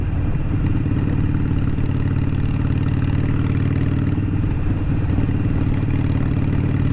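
A Harley-Davidson SuperLow motorcycle engine idles close by with a steady, loud, low rumbling throb and light clatter, unchanging throughout with no voices.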